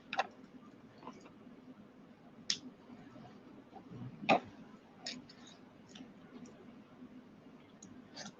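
Sparse keyboard typing and clicking during a live coding talk on Zod and SvelteKit, faint irregular taps and clicks over quiet room tone.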